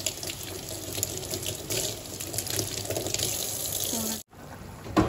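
Running tap water gushes steadily into a kitchen sink while food is rinsed under it, a continuous close splashing stream that cuts off abruptly near the end.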